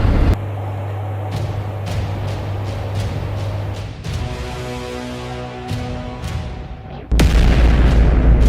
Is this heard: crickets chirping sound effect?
no